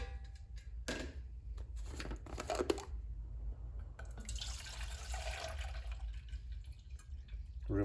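A liter of water poured into a camping pot beside a DIY alcohol stove, with short splashy bursts, a clatter, and then a longer steady hissing pour, fairly close and with no voices.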